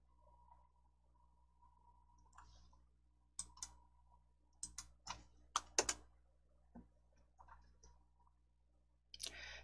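Computer mouse clicks while bold, 12-point, centered formatting is set in a Korean word processor, a scattered run of sharp, close clicks, some in quick pairs, over a quiet hum with no talking.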